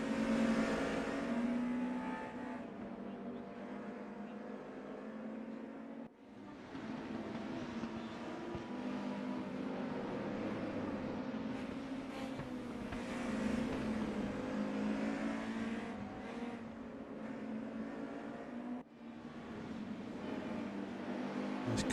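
BMW and Mercedes DTM 1992 touring cars racing at Spa-Francorchamps in a sim racing game: steady engine drone held throughout, rising and easing as the cars pass, with no talk.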